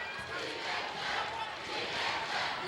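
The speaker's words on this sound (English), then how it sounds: "Crowd chanting again, PHN." Basketball crowd at a 2010 Port Huron vs Port Huron Northern high school game chanting PHN, a steady loud roar of many voices filling the gym throughout with rhythmic swells.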